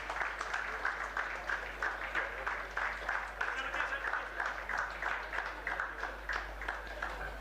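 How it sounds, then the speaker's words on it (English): Applause from the audience at a university chemical engineering jubilee ceremony, a steady, moderately quiet patter of many hands clapping continuously for several seconds beneath a low hum. "Can we have a round of applause?"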